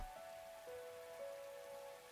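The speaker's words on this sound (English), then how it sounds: "Raindrops were pelting the rooftop all around me, producing a relentless rhythmic beat." Steady rain pelts a rooftop in a video game, a dense continuous patter with no voices, while faint sustained tones sit lightly over it.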